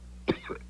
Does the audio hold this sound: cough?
yes